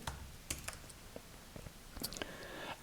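Quiet, irregular key taps and clicks on a computer keyboard while text is typed with a text tool in Adobe Photoshop, with a few sharper clicks scattered over a low background hiss.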